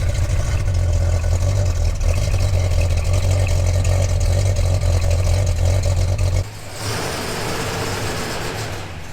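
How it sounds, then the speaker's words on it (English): A deep V8 engine in a 1966 Plymouth Barracuda rumbles loudly and steadily, its low exhaust throb holding, then it drops away and a lighter, rougher engine note carries on. "That's a good old V8 for you. So let's get some exhaust noises."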